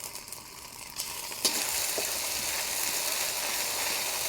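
Garlic and ginger paste hitting hot oil in a pan with onions for a fish bhuna, a faint hiss that jumps into a louder, steady sizzle after a soft clink, with no voices.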